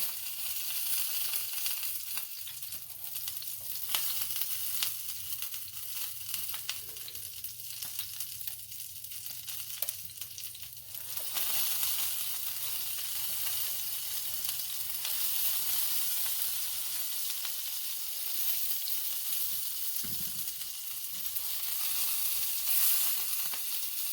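Salmon sears in a hot cast iron pan with a steady, bright sizzling hiss that runs throughout, shifting slightly midway with a brief clunk of the pan, and no talking.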